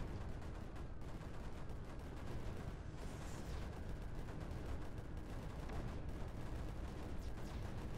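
Weapons fire continuously in the Creeper World 4 strategy game, a dense, steady barrage of rapid overlapping gunshot-like blasts with no pauses, loud and unbroken throughout.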